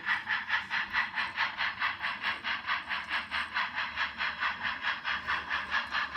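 A model railroad steam train departs along a layout with a rapid, even chuffing hiss, about four beats a second, steady and close throughout.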